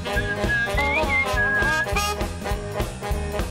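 A swing-style cartoon theme song with a bright melodic whistle gliding over drums, bass, piano and brass, steady and loud throughout.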